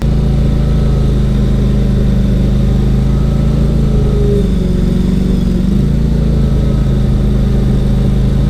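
A 13-horsepower engine on a cheap mini skid steer runs steadily at a constant idle-like drone, with a brief shift in pitch midway, close and continuous with no talking.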